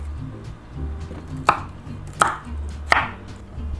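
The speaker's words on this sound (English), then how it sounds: "Now you want this chopped into small florets." A knife chops cauliflower into small florets on a cutting board, giving three sharp, distinct thunks about a second apart over a quiet kitchen background.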